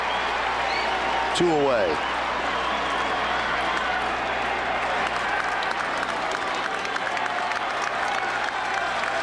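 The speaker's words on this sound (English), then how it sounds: "And the crowd at the stadium gives him a pretty nice hand, what's left of it." Baseball stadium crowd at a Cleveland Indians at New York Yankees game gives a sustained hand for Omar Vizquel, distant applause and murmur with a brief whistle near the start and a broadcaster's voice over it.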